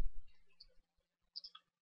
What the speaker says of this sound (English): You can start simply by typing